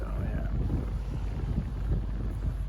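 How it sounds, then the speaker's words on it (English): Steady, blustery wind buffets the microphone with low rumbling gusts throughout, no voices. "the wind is already picking up"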